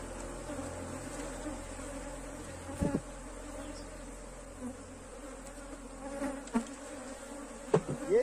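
A honeybee swarm drones steadily at a hive, a dense continuous buzz heard close up, with occasional louder passes of individual bees and brief bumps.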